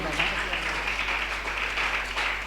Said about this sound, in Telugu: అందరం చప్పట్లు కొడదామా?